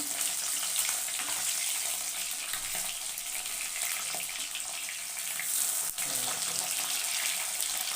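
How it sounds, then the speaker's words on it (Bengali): Fish fry crisply in a pan with a dense, continuous, loud sizzle. A brief knock is heard near the end, and there is no talk. "এই দেখো মাছগুলো আমি কড়া করে ভেজে নিচ্ছি"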